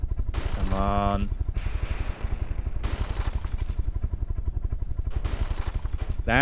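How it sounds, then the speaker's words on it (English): A Gatling cannon fires in the naval combat game From the Depths, a rapid, sustained mechanical rattle of shots with brief pauses between bursts, loud and close. "The Gatling cannon's tearing into it now."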